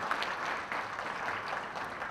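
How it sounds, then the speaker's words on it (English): Audience applause at an opening keynote, an even, moderately faint patter of many hands clapping continuously in a large room, with no clear voices. "One more round of applause, please."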